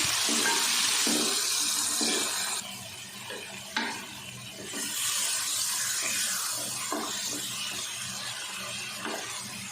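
Chopped onions and roughly chopped tomatoes fry and sizzle in a pan for a chicken mumtaz curry, a steady loud hiss with occasional stirring scrapes and no talking.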